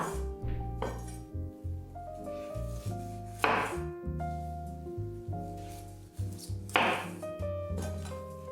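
A knife slices broccoli florets in half on a board, giving three distinct crisp cuts spaced a few seconds apart under steady background music.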